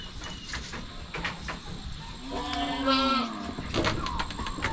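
A mother goat and her kids bleat from close by on a farm, with wavering calls rising over a background of insects and rustling.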